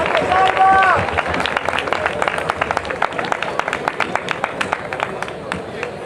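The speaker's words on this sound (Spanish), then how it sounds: "Recibámosle con un fuerte aplauso." Spanish audience at a Canal Sevilla Radio stage show for Tierra de Hombres, clapping steadily to welcome a speaker, a dense run of claps with a brief voice or whistle near the start.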